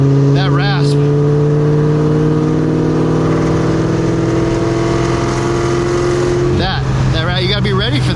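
A Terminator Cobra engine with a Borla Atak exhaust holds a steady, loud drone, rising slightly in pitch before settling, while a person talks over it at the start and near the end.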